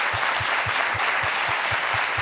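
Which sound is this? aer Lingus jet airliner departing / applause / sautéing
applause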